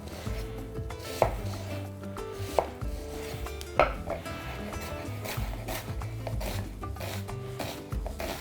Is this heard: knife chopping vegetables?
yes